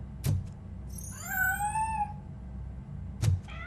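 A cat meows in the RoboCop: Rogue City video game, a single drawn-out, rising-and-falling mew heard clearly and fairly close, framed by a couple of soft thumps before and after.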